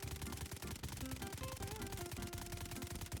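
A PP2000 submachine gun fires in the video game BRM5, with rapid automatic bursts crackling over a loud, dense game soundtrack that keeps playing throughout.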